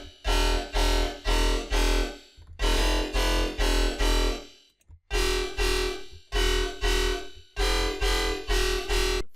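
A heavily processed synth with a mirror effect plays choppy, gated chord stabs in a fast pulsing rhythm, grouped in loud bursts with short silent breaks, for a dubstep-style drop; no one speaks.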